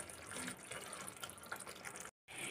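Water pours steadily from a rinsed bowl into a cooking pan of mustard-poppy-seed pointed gourd, a continuous close splashing trickle broken by a brief silence near the end.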